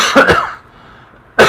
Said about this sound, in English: I have a little cough because of my allergies.